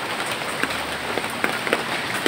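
Steady rain pouring outdoors in a rural Philippine garden, a dense continuous hiss with scattered sharper drops, close and loud, with no voices.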